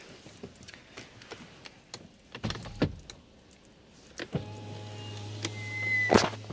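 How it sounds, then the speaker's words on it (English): Car power window squeaking on a rainy day, scattered ticks and clicks followed by a motor hum and a sharp rising squeal as the glass moves, close and alone. "My window squeaks."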